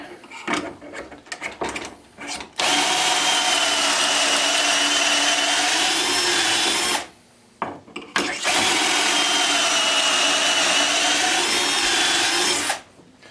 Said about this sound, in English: we're going to drill our holes with the MulWark